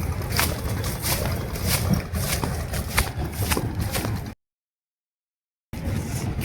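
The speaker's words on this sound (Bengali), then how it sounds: "ওই যে একটা ট্রলার যাচ্ছে, ট্রলার না, ওটা জাহাজ।" A ship passes on a river near Mongla, a steady broad rumble of engine and water wash mixed with wind buffeting the microphone, continuous and fairly loud, briefly cut to silence before resuming.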